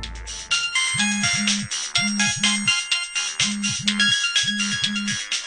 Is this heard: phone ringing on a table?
yes